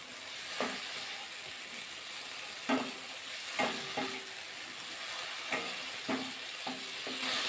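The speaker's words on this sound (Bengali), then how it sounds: "ভালো করে মশলা আবার একটু কষিয়ে নেবো 2-1 মিনিট।" Spices and okra sauté in a pan with a continuous sizzle, punctuated by about eight sharp spatula scrapes and taps at irregular intervals, close up and without talk.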